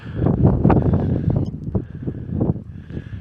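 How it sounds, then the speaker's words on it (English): Rough, gusty wind buffeting an open moorland wild camp at Kinder Downfall, rising and falling in surges across the whole stretch, fairly loud and close. "giving us some shelter from the wind. But there's some gusts now, it's really getting up."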